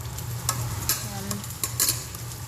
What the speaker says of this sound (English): you just stir everything together